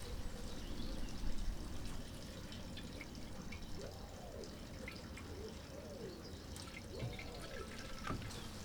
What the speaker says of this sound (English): And then we can bring in a funnel and pour the paraffin in.